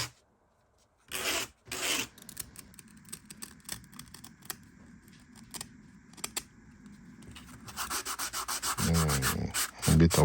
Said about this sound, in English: Then I go to the sandpaper to smooth it up and to level it up everything.